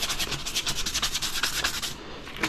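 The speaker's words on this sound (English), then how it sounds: "give it a little sand down to make that nice and smooth" Sandpaper rubbed back and forth along a floating net handle extension to smooth a cut end, a close, steady scratchy rasping in quick repeated strokes, with no talking.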